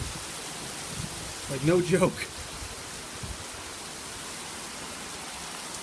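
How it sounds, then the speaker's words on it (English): Heavy rain pours down in a thunderstorm downpour, a dense, even hiss that stays constant throughout, with a person briefly speaking over it. "This is the kind of rain I want to see always."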